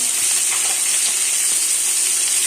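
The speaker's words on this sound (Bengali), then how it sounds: "একটু হলুদ দিয়ে এটাকে বেশ ভালো করে ভাজা ভাজা করবো" Beans and green chillies frying in oil with salt and turmeric, giving a steady, dense sizzle that holds at an even level throughout, close up with no voices.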